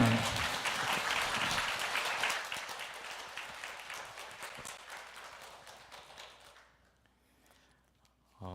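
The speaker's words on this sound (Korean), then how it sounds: "박수로 우리 목사님 맞이하시면 좋겠습니다" A church congregation at a Lenten revival service claps to welcome the guest pastor, dense applause from many hands that thins and fades out, then a voice begins briefly at the end.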